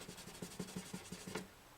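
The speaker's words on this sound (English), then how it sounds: "This is 1500 grit paper right here." Fine 1500-grit sandpaper rubbed by hand across a Gibson J40 acoustic guitar: about nine quick, even back-and-forth strokes, close and fairly soft, with no talking.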